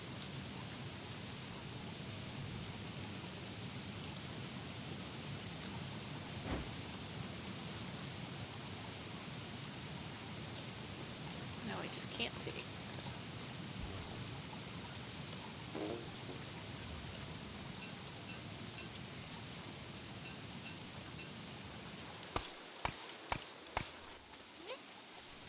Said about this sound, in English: at least the frog rain stopped